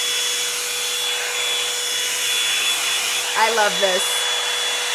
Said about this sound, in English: This is the Revlon one-step hair dryer, one of my favorite items.